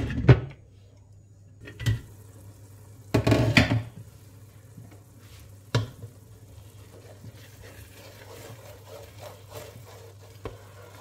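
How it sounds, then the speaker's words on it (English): Egusi soup stirred in a pot: quiet intervals broken by a few distinct scraping and knocking bursts of a spoon against the pot, with a faint low hum underneath. "Still stirring, still stirring. Hope you can see the clumps of the egusi"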